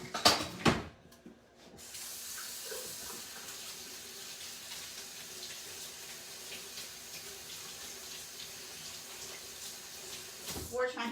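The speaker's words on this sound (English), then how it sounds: "Wash my hands real good because I'm fixing to go over there and handle the meat" Tap water runs steadily into a kitchen sink while hands are washed beneath it, a continuous close splashing hiss after a brief clatter at the start, with a person talking over it.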